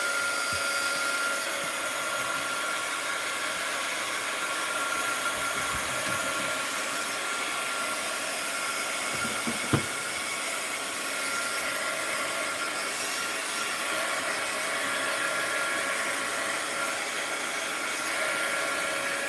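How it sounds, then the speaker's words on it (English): A handheld heat gun blows steadily on a wet painted journal page, a continuous broadband airy whir with a faint roughness, running unbroken close by for the whole span with a single small knock near the middle. "Let's dry this first. Where's my heat gun?"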